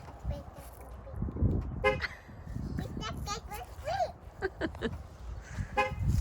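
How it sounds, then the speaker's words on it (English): Short honking toots from the horn of a 2020 Ford F-350 Super Duty Tremor diesel truck sound repeatedly amid outdoor traffic noise, with an adult and someone talking over them. "Does the big truck go beep?"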